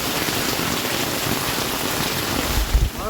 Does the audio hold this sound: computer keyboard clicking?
no